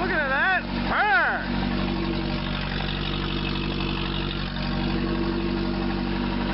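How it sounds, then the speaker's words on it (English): A car engine idles with its exhaust disconnected, giving a loud, raw, steady rumble after a head and head gasket replacement. A voice whoops excitedly near the start over the running engine. "Guess I forgot to reconnect the exhaust, but damn, I love that sound."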